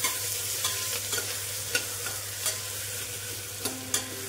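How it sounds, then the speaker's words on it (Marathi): Onion and tomato sauté in a pan with curry leaves and crushed ginger, a steady close sizzle broken by a handful of sharp spoon scrapes and clinks against the metal. "कांदा टोमॅटो छान परतून घ्यायचं"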